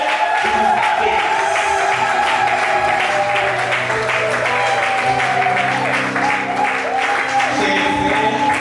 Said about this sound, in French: je vous invite à pouvoir manifester votre joie dans les acclamations